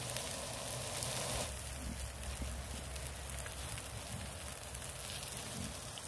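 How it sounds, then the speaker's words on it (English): Barbecue pork loins sizzle on a grill at a wild camping spot behind a factory, giving a steady, close, crackling hiss that does not let up. "sizzling away."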